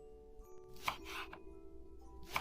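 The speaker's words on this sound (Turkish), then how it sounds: "Bu incelikte yeşil soğanlarımızı kesiyoruz." A few sharp knife strikes chopping green onions on a cutting board, spaced unevenly, close and fairly quiet, with a low steady hum underneath.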